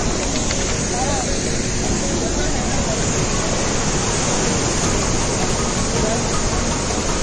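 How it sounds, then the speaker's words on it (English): Dudhsagar waterfall roars as a dense, constant rush of falling water, loud and close, filling the whole scene without pause. "What a beautiful waterfall!"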